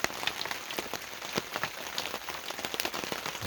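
Rain patters steadily on a Walmart canopy tent beside a lake, a dense, close hiss of drops with scattered louder taps and no voices.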